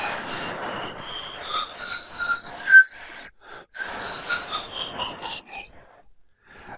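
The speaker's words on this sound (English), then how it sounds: "So this is your finished pan pipes" Homemade pan pipes built from drinking straws with spacers, played as a run of breathy, airy whistled notes, each pitch a short blown tone with audible breath noise, a brief pause midway and then more notes before fading out.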